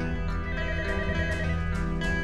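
A telephone rings in a TV drama scene, a repeating electronic pattern over a dense, steady background of music-like tones, with short bursts recurring about every half second.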